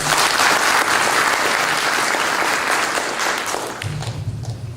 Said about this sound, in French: qu'on l'applaudit encore